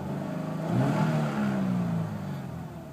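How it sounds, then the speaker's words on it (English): A 2013 Subaru BRZ engine drones steadily up close, rising into a rev in the middle with a slightly uneven, burbling tone before settling back. "I love that Subaru sound, where it sounds like it's misfiring, but it's not."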